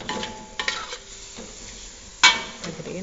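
Chicken filling for lemper stirred in a pan as it cooks down, a low sizzle under repeated scraping strokes of a spoon, with one sharper clatter near the end.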